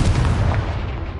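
A single heavy, sustained blast from the Confringo fire spell in Hogwarts Legacy, a dense low rumbling roar that holds steady then slowly fades, close and loud with no talk.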